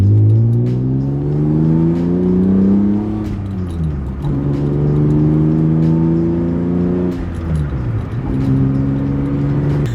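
Naturally aspirated BMW E36 M3 with manual transmission, a caged interior and Sparco seats, its engine revving loudly and close, climbing in pitch through gears with brief dips at each shift.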